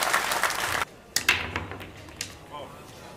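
Crowd applause at the 2024 Predator WPA Men's World 10-Ball final, a pool match, fills the room with dense clapping for under a second before cutting off, then commentators talk over faint crowd noise.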